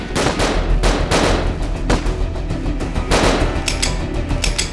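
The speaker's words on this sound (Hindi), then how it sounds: "करिश्मा सिंह, हमारी गोलियां खत्म हो गई" Staged gunfire in a TV police drama shootout: rapid bursts of loud, sharp shots in irregular volleys, close and continuous for several seconds with no talk.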